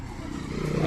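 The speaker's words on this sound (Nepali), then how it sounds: "यहाँ एउटा बाइक आयो।" A motorcycle rides along a hillside road in Kurseong, its low engine drone swelling louder as it draws nearer over about a second.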